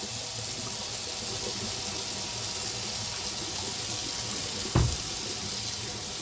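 A steady rush of water runs from a tap, constant and fairly close, with a brief knock near the end.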